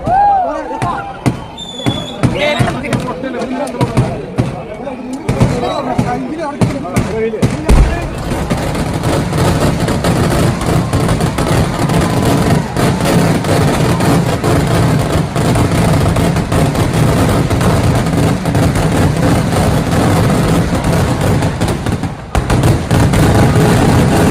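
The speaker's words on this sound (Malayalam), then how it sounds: "അങ്ങനെ വെടിക്കെട്ട് തുടങ്ങി" Fireworks at Thrissur Pooram explode in rapid, relentless bursts, first sharp separate cracks and then a thunderous continuous roar of blasts, very loud, while a crowd is faintly heard beneath.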